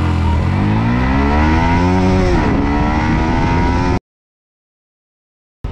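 A Yamaha MT15 150cc motorcycle accelerates hard from a standstill toward 60, its loud, close engine climbing in pitch through rising revs with a shift around halfway, before cutting to silence.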